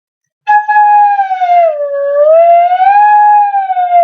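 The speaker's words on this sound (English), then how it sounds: "You can also put your finger in and slide it out," A flute head joint blown on its own while a finger slides in and out of the open end, giving one loud, continuous whistling tone that swoops down in pitch and then rises back up.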